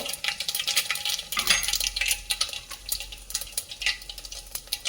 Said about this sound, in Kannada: ಎಣ್ಣೆ ಕಾದಿದೆ. ಸ್ವಲ್ಪ ಸಾಸಿವೆ ಹಾಕ್ತಾ ಇದ್ದೀನಿ. ಹಾಗೆ ಜೀರಿಗೆ,